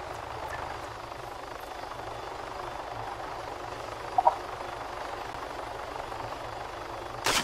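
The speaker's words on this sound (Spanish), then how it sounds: "Escuché un helicóptero." Helicopter flying in the video game Arma 3, a steady rotor drone heard at moderate distance throughout, with a couple of brief clicks midway.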